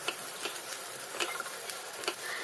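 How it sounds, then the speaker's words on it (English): Light green chili sizzles softly in a pan for a Goan Easter lunch, a faint steady crackle with occasional stirring clicks. "we're going to add our light green chili and fry the chili well"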